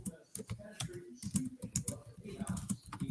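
Rapid clatter of typing on a computer keyboard, close and distinct keystrokes in uneven bursts with short pauses, a voice speaking faintly beneath.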